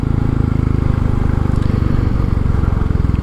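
A 2022 Royal Enfield 350 Classic pulls away in third gear along a quiet back lane, its engine giving a steady, close, low-pitched throb that holds evenly throughout.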